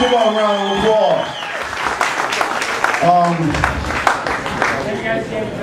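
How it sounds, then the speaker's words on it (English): An audience at a hip-hop showcase applauds and cheers in a steady wash of clapping, with a voice speaking over it at points. "Give a round of applause"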